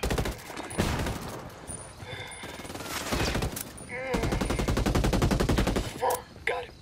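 Gunfire in the video game Ghost Recon Wildlands, with rapid automatic bursts and repeated shots close and loud, broken by short pauses, while a player talks between the volleys.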